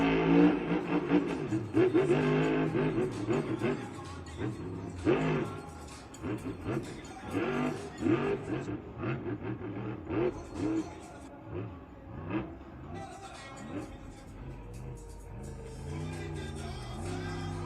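A Monster Jam truck, Monster Mutt, revs its engine in a stadium, uneven bursts of rumbling throttle rising and falling under an announcer's voice and crowd noise.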